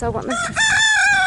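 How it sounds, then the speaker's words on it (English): Chickens in a pasture flock, a rooster crowing loud and close over clucking hens, with a person speaking briefly at the start. "chickens because they lay the most delicious eggs, and they're just very sweet and also very beautiful animals"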